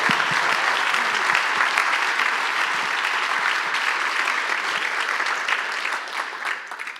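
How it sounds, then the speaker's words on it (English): Another round of applause at an evening civic event, a room full of hands clapping loudly and continuously for several seconds before thinning out near the end. "let's give them one more round of applause"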